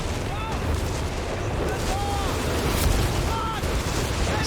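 Artillery shells landing as a barrage zeroes in during a Company of Heroes 3 match, a steady rumble of distant booms and blasts with a rising whistle, continuous and moderately loud.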